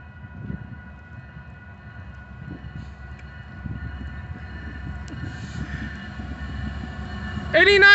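A Union Pacific northbound freight train led by an EMD locomotive approaches, a low rumble that grows louder over several seconds before a sharp, loud burst of horn or bell at the end, with faint distant tones throughout.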